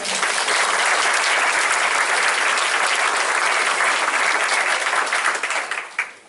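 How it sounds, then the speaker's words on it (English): An audience at a church presentation applauds tour members, a dense, steady round of clapping that holds strong for about six seconds before tapering off. "So let's give a round of applause."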